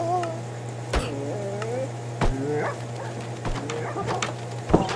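Soft, high whining whimpers from a dying dog in Minecraft, several short plaintive cries over a low steady hum, broken by sharp thumps.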